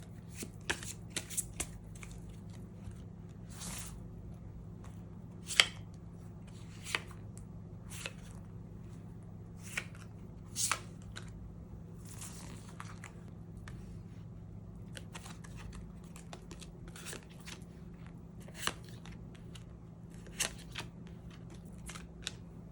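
Tarot cards are shuffled and drawn in a quiet room, with soft repeated riffling bursts and crisp slaps and flicks scattered over a faint steady hum.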